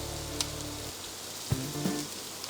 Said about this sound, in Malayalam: എല്ലാം കൂടി നല്ലപോലെ നമുക്ക് വഴറ്റിയെടുക്കാം.